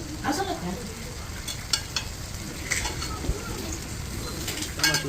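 Whole spices such as cardamom, cinnamon and cloves stirred in a hot pan for chicken prawn pulao, with a low sizzle, a few scraping strokes and faint bird calls in the background.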